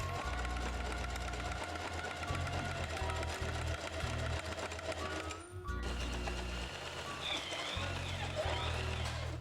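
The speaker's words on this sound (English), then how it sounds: "Stitch right along the edge, catching the denim but not going too deep into the seam allowance." Sewing machine zigzag stitching along the edge of a denim patch on jeans, a close rapid mechanical chatter that starts and stops in bursts with short pauses between runs.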